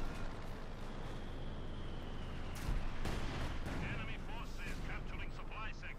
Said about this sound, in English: So much artillery still, I mean, it's pretty much a moon landscape in the centre of the map with all the craters there